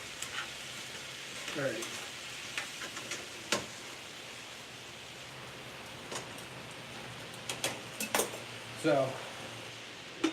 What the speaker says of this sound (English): so we're gonna stir up our pork a bit